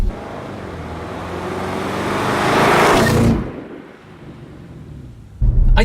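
An Audi RS6 Performance accelerates hard with a loud, rising engine roar that builds for about three seconds, then abruptly cuts away to a quieter interior rumble.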